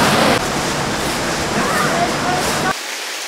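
River water rushes steadily beneath the Tulay Kastila bridge in Dasmariñas City, a loud, broadband flowing wash with voices faintly mixed in, cutting off abruptly near the end.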